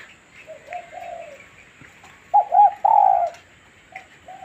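Pet bird Mae Mali gives several soft, sweet cooing calls, a few short notes early on and then louder paired coos near the middle, with quieter calls trailing off at the end, no voices present.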